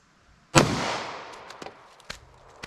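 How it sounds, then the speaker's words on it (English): A single 9mm Federal 9BPLE round fires into a ballistics gel block, a sharp loud crack followed by a long decaying echo, then a few faint clicks and knocks. "Let's hit our ballistics gel block to see what we get with these rounds."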